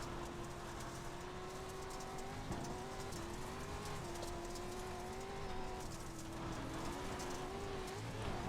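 A race truck engine in iRacing short-course racing revs and drops repeatedly, a buzzy harmonic drone shifting pitch as gears change, continuous and fairly loud with road noise, no talking.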